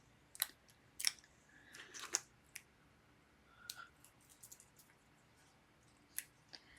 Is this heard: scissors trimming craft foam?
yes